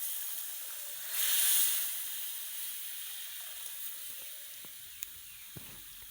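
Water simmering and sizzling in a cooking pot, a soft steady hiss with a brief louder burst of steam near the start, then quieter bubbling with a couple of small clicks.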